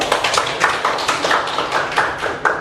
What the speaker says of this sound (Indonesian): Tepuk tangan untuk Jo.